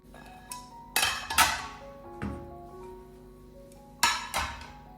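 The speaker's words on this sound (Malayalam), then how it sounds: "കഴുകി വെച്ച പാത്രങ്ങളെല്ലാം ഒന്ന് തുടച്ച് കബോർഡിലേക്കും പിന്നെ ഇതുപോലെ ആ ഒരു പ്ലേറ്റിൻ്റെ റാക്കിലേക്കെല്ലാം എടുത്ത് വെക്കലാം" Washed dishes and plates being stacked into a kitchen cupboard and plate rack, giving sharp ceramic and glass clinks and knocks in irregular clusters, close by, with quiet gaps between.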